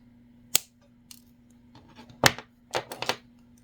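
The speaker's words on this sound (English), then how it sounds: "I'm going to go ahead and give that a snip." Wire cutters snipping jewelry wire during wire wrapping of a moon pendant with a cabochon, a sharp click, a fainter one, then a cluster of close metallic snips over a low steady hum.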